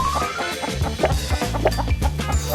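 Hens cluck through a busy kitchen scene in a cooking challenge, short clucks coming fairly close over clatter and background music, with no talking.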